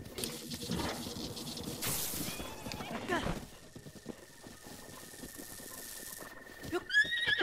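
A horse whinnies and snorts amid clip-clop hoofbeats and game-like effects in Breath of the Wild, with a sustained tone in the second half and a sharp burst near the end.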